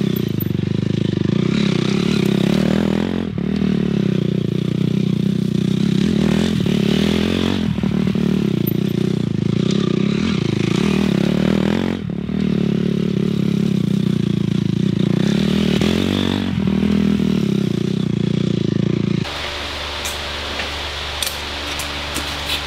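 A motocross motorcycle roars continuously during a moto, its engine droning and surging with throttle changes. The rider is close, then the noise shifts to a rougher, steadier idle-like rumble near the end.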